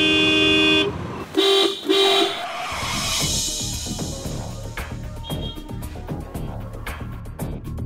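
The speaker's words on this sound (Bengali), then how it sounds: "হাসপাতাল কিংবা স্কুলের কাছে কখনোই হর্ন বাজানো উচিত নয়" Car horns honking on a busy street, several loud toots in quick succession at the start, then continued traffic rumble with scattered clanks and fainter honks.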